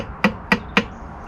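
Three light, evenly spaced taps of a tool on the valve gear while setting the tappet clearances on an Austin Allegro engine during a home service; sharp, close, brief knocks with quiet between them.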